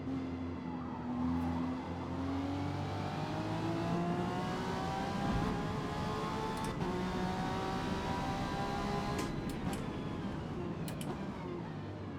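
A GT3 race car engine in Forza Motorsport racing at Daytona, revving steadily near the listener with pitch sweeps as it downshifts, accompanied by faint tire noise and no talking.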